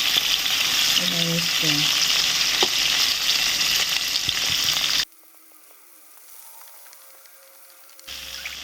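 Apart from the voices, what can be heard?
ingredients frying in pan for egg gravy curry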